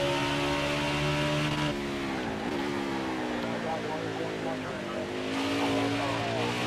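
A car on track at Watkins Glen, run in reverse, brakes into the esses; the engine note drops sharply, then wavers and climbs again as it powers through, loud and close.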